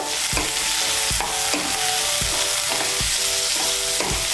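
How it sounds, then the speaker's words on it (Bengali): Chopped tomato is stirred into a potato curry frying in a pan, with a loud continuous sizzle and regular spoon scrapes about twice per second, without speech. "টমেটো কুচিটাকে মিশিয়ে নেব।"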